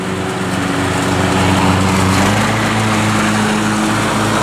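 A Cub Cadet XT1 Enduro riding lawn mower runs throttled up, its engine holding a loud, steady, close drone with a constant hum throughout and no talk.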